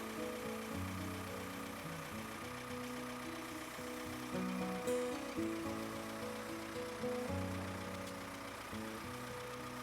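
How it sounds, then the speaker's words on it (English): A farm tractor engine runs steadily at close range, a continuous mid-pitched drone with a constant rhythm and no talking. "The sound of the tractor signifies that her master needs her help."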